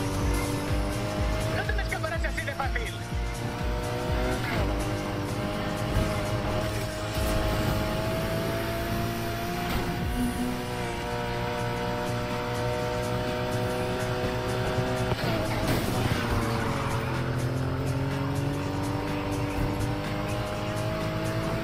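A Porsche race car in the driving game Need for Speed Heat roars at sustained high revs, its engine tone climbing and shifting through gears, with brief tire squeals and a voice occasionally talking over it.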